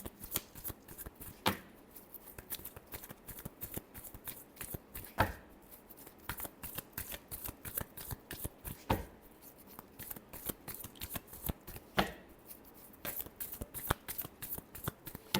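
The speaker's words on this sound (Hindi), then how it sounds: "Last shuffle." A deck of tarot cards is shuffled up close: steady, crisp riffling and flicking with sharper snaps every few seconds, continuing without voices.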